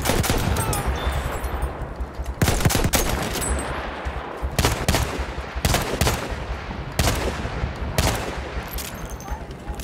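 Gunfire in the Battlefield 1 video game, with revolver shots amid sustained loud bursts and rapid shots, sharp cracks recurring every second or two over dense continuous battle noise.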